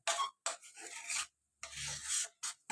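A spoon scrapes and rasps through a thick jaggery mixture for gul papdi in a pan, in a few close, uneven bursts of stirring with short pauses between.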